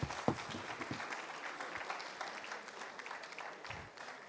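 Applause from an audience at a ministerial press briefing in Abuja, a steady wash of many hands clapping at moderate, fairly distant level, with a sharper burst near the start that eases slightly toward the end.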